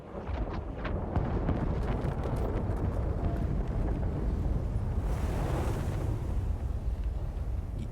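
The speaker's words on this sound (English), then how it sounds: "Explosions?" Dull explosions rumble in the frozen city-building game Frostpunk 2, a continuous low roar with rolling crackle that stays loud and dense all the way through.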